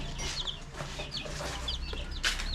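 Golden Boy gamefowl chickens clucking and calling in a farm pen, several birds making short overlapping clucks over a steady background hiss, fairly close and moderately loud.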